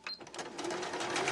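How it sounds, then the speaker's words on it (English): A sewing machine stitches up the sides of a fabric bag in a steady, close mechanical whir that runs without pause for the whole moment, with no talking. "I just want to sew up these sides"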